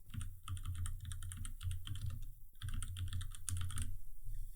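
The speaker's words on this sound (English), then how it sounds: "And I'm going to type in affiliate marketing." Rapid keystrokes clatter on a computer keyboard while text is entered in a design program, a close, steady run of clicks with one short pause in the middle.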